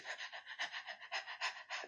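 A voice imitates panting, pushing out a steady string of quick, shallow, breathy huffs, about eight in under two seconds, close and fairly loud, with no words.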